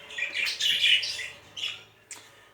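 Jumbo budgerigars in a breeding cage give a burst of close, bright squawking chirps, followed by two shorter calls, over a faint low hum.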